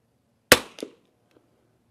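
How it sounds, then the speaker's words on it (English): A Savage rifle fires from a bench: one sharp, loud report followed by a quick echo off the range, then quiet with a faint later tap. "Put some rounds down range."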